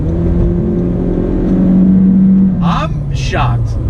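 A 2019 Honda Civic Sport Touring hatchback with a CVT accelerating in sport mode, its engine droning steadily and loudly while people talk over it near the end.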